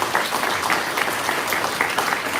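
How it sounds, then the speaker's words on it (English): A crowd at the Franklin Square PATCO station reopening ceremony gives a round of applause, a full, even burst of clapping with no talk. "give them a round of applause and tap them on the shoulder"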